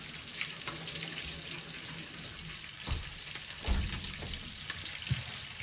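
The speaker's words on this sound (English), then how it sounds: "So I got some tomatoes, so I'm going to wash that." Tap water runs steadily over tomatoes being washed in a sink, a soft continuous splashing hiss with occasional louder splashes and knocks as the fruit is handled, quiet and close.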